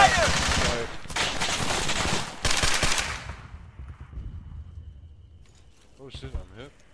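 Loud gunfire in the video game ArmA 3 set in Zargabad, with dense automatic bursts for about three seconds that then fade into a quieter tail, followed by a brief voice.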